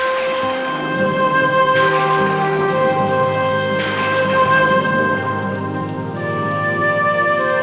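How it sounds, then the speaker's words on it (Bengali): Heavy rain pours steadily onto surfaces, a dense, continuous hiss that stays loud and even throughout, with no voices. "মা এখানে প্রচন্ড জোরে বৃষ্টি হচ্ছে"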